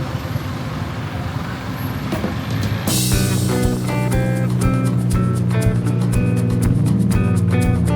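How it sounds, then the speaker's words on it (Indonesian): Bangkok traffic jam heard from a tuk-tuk: a low engine rumble and vehicle noise fill the air, then a loud hiss like an air brake cuts in, followed by a steadier droning hum, with no talking. "Ini lagi macet."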